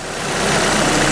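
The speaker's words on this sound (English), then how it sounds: "The engine smooths down." A car engine idles steadily after the EGR system is switched off during a P0401 insufficient-flow test, a continuous mid-to-low rumble that swells slightly and then holds even and close.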